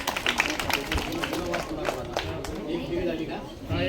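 At a district school children's quiz festival, a crowd claps for a correct answer, a burst of scattered hand claps mixed with chatter and voices in a hall, moderately loud and uneven.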